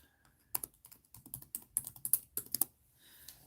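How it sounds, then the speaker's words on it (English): Fingers type on a PC keyboard in irregular bursts of soft, quick key clicks, close and fairly quiet, with brief pauses between runs. "I'm typing on my PC."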